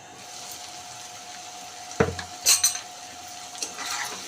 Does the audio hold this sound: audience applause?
no